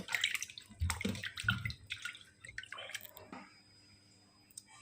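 Octopus tentacles washed in salt water, with intermittent close splashes, drips and squishy handling sounds at a fairly quiet level.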